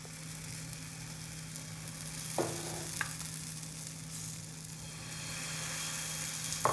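Sprouted moong batter sizzles steadily as it is spread across a hot pan, a continuous close frying hiss with a few faint clicks of the spreading utensil and a low background hum.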